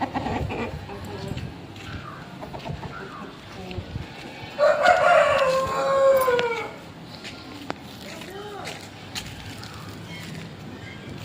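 A rooster crows once at moderate distance, a drawn-out call rising and falling over about two seconds, set among quiet outdoor background noise with faint murmurs around it.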